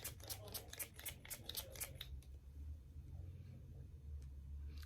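Perfect Finish Setting Spray pumped onto a face in a rapid burst of about eight short hissing spritzes, followed by quiet low rumble and faint background noise.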